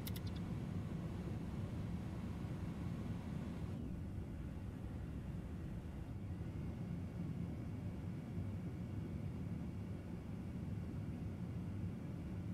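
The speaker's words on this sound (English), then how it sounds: "Beautiful takeoff out of Iran, Tehran." An iniBuilds A310 airliner takes off from Tehran in MSFS 2020, a continuous loud broadband jet roar and rumble that holds steady, with a brief sharper onset at the start.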